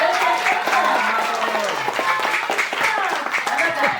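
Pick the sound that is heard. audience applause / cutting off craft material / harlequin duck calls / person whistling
audience applause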